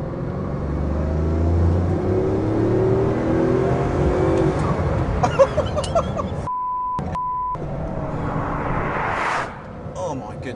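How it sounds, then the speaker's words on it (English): A Bugatti Veyron Super Sport accelerating hard from inside the cabin, its engine note climbing steadily and loudly, with a brief electronic beep partway through. "The way this car accelerates is absolutely mind-blowing."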